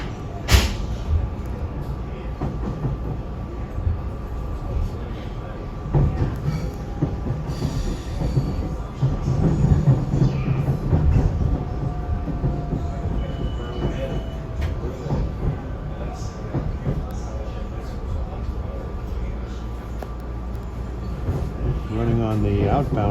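A SEPTA regional rail train runs on the outbound main track, with steady rumbling, wheel squeal and rail clatter throughout, while someone speaks over the noise.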